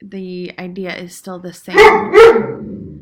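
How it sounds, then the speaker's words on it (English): A dog barks twice loudly near the end, sharp close barks following a stretch of someone talking in a home setting. "Sorry about my dog there."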